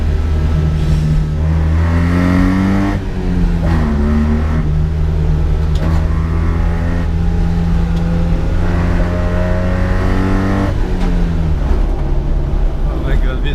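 A 1980 Mitsubishi Minica's small engine revs loudly and close, rising and falling in pitch over a sustained drone, with two sharp shifts in tone partway through.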